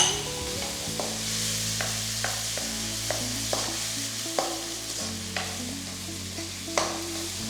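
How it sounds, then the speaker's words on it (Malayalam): Tomatoes sautéing in oil in a pan for egg lababdar, with a steady close sizzle and frying hiss overlaid by repeated stirring scrapes and clicks of a spoon against the pan at irregular intervals. "നന്നായിട്ട് സോട്ട് ചെയ്യുക, എണ്ണ തെളിഞ്ഞ് വരുന്ന വരെ കുക്ക് ചെയ്യുക."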